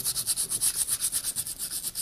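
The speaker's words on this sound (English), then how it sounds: "I kind of like to run a little sandpaper over it" Sandpaper rubbed back and forth over a freshly hung wooden axe handle, an even rhythm of about eight quick strokes per second, close and alone.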